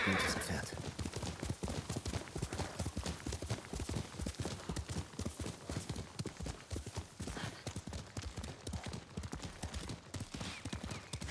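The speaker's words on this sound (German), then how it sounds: "Ist ein gutes Pferd." Horse hooves clip-clop in a fast steady rhythm through the samurai video game Ghost of Tsushima, close and continuous, with a neigh near the start and faint ambient wind behind.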